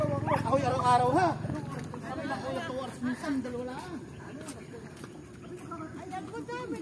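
Several dogs, six kept together at a hillside home, bark and yip in quick bursts near the microphone, louder at first and then scattered, mixed with people chatting.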